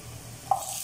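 Onion goes into a pan with garlic while cooking chicken liver and gizzard adobo, giving a soft hiss and a brief clatter of stirring midway, faint and close, with no talking.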